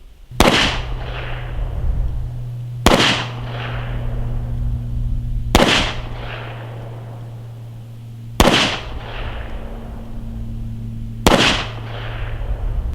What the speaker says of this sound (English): I'm gonna shoot that 15 meter group again